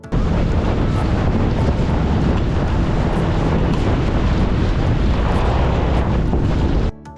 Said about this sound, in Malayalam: എത്രയായാലും സ്പീഡ് ബോട്ട് യാത്രയുടെ ഹര ഒന്ന് വേറെ തന്നെയാണ്